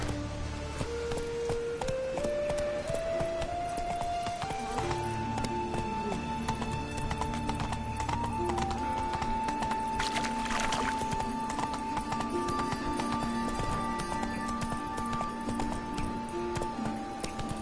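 A horse in The Witcher 3 video game trots with steady clip-clopping hooves under a continuous layer of game music, with a brief whinny partway through.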